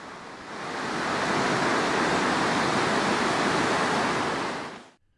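A creek flooded and overflowing after heavy Hurricane Irene rains roars with rushing water, a loud, steady, continuous wash that stays unbroken for several seconds before cutting off.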